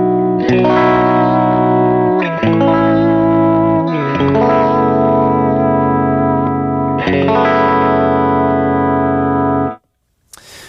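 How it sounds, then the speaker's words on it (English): Electric guitar through a pedalboard's lo-fi vibrato destroyer effect: sustained chords warble and waver with a filtered, degraded tone, changing every couple of seconds, loud and close, ending abruptly in a brief silence and a short noise burst, with no talk. "here's an example of some destroyer effects that I use"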